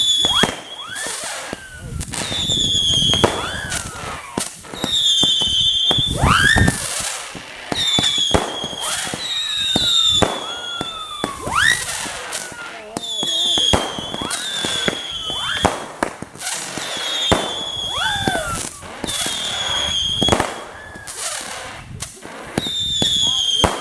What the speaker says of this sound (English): This is an old Temple of Heaven cake called Splendid Sound.